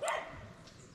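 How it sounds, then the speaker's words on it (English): A husky malamute mix dog gives a short bark outdoors in the rural Colombian countryside, close and fairly loud at the start and fading into quiet background. "I'm taking my dog because, you know, I have a husky mix,"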